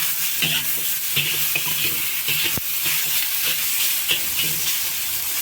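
Spare ribs fry in a hot wok with a steady, close sizzle, broken by the scrape and clatter of stirring and one sharp knock partway through; nobody speaks.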